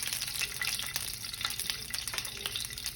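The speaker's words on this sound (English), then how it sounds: "in the same oil, we're gonna go ahead and fry the onion a little bit" Onion frying in oil left over from frying chicken for red chicken tamales, with a close, steady sizzle and crackle and light stirring throughout.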